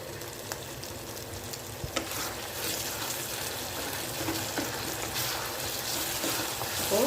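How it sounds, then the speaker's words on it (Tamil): Tomatoes sauté in a pan for a Tamil manathakkali vatha kuzhambu, a steady close sizzle and crackle of frying that holds an even level throughout, with faint occasional stirring and no voice. "ஸோ தக்காளி நல்லா வதங்கி வரட்டும்."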